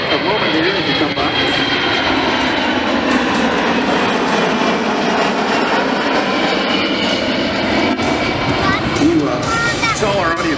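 A KC-135 jet tanker passing overhead at an airshow, a loud, steady broadband engine roar with a slowly shifting whine that fills the whole stretch.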